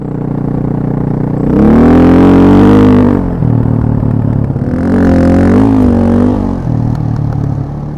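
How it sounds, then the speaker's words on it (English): An enduro motorcycle climbing a sand dune in the Moroccan desert revs hard and loud up close, its engine note rising, dropping and surging again as the rider works the throttle through deep sand. "the monster dune ride I did in Morocco on my last enduro trip"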